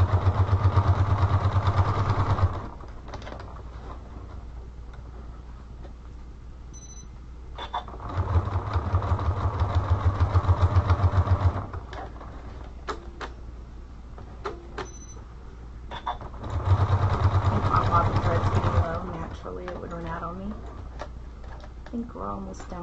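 A sewing machine top stitches a spiral notebook cover at a slightly lengthened stitch, running in three steady bursts of a few seconds each, with quiet pauses and handling noises between them.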